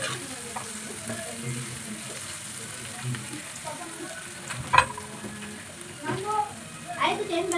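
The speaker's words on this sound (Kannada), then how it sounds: "ಕರಿಬೇವಿನ ಸೊಪ್ಪು ಹಾಕ್ತಾಯಿದ್ದೀನಿ ಮತ್ತು ಜಜ್ಜಿದ ಬೆಳ್ಳುಳ್ಳಿ." Curry leaves and crushed garlic hit hot oil in a pan, giving a soft, steady sizzle with occasional louder pops and stirring scrapes, heard fairly close with no talking.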